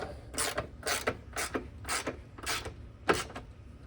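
A ratchet driving a 12 mm deep socket snugs down a bolt on a 1996-2002 Toyota 4Runner, giving about eight quick, evenly spaced clicking bursts, close and alone.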